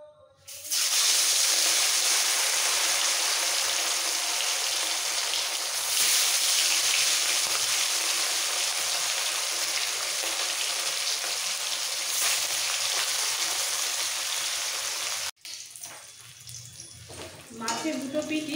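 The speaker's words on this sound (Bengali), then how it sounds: "তেল ভালোভাবে গরম হয়ে গেছে, এবার মাছগুলো ভাজার জন্য ছেড়ে দেবো।" Pieces of katla fish sizzle in hot mustard oil in a pan, a loud, dense, continuous frying hiss that runs for about fifteen seconds and then cuts off abruptly to quieter kitchen sounds.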